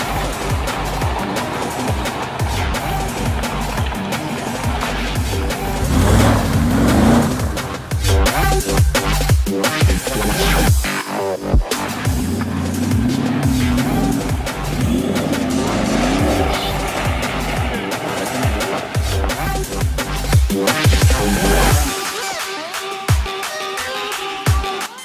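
A homemade Mercedes-Benz G-Class 6x6 with a 650 HP engine roars through its first test drive, with loud, close engine revving, surging acceleration and squealing tyres sliding across the surface before a brief drop near the end.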